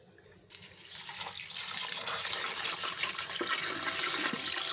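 Water rushing over flattened rice (chira) being washed in a bowl, a continuous splashing pour that starts abruptly and grows louder and fuller over a few seconds.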